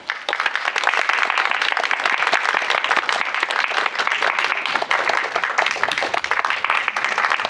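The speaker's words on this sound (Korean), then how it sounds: "큰 박수로 맞이해 주시기 바랍니다" An audience at a film talk event in Korea breaks into loud, sustained applause as guests walk onstage, a thick, continuous patter of clapping with no letup and little talk.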